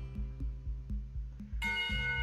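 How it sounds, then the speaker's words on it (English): School lunch bells from the Katawa Shoujo video game ring in a regular series of sharp chimes over a low hum, with a brighter, fuller ringing tone joining near the end. "buried beneath the ring of the lunch bells"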